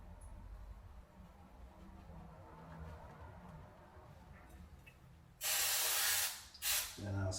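Aerosol spray can sprayed onto a glued surface, giving a loud sustained hiss of about a second, then two shorter bursts after quiet workshop background.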